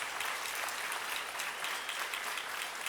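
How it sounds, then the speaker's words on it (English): Audience applause fills a theatre after a speaker series talk with a renowned painter, a dense, steady wash of many clapping hands at moderate loudness that holds evenly throughout with no voices over it. "a huge round of applause to ThankYouX and Josh Videos"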